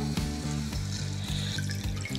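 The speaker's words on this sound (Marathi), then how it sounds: "आता हा मसाला छानपैकी परतून झाला की यामध्ये घालूयात पाणी" Hot water is poured into sautéed masala in a pan for a sandge (sun-dried lentil dumpling) curry, a brief splashing, gurgling pour up close over a steady background hum.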